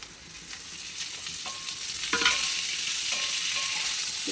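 Okra and browned onions fry in a pan with a steady close sizzle, broken by a few stirring scrapes partway through, and no one speaks.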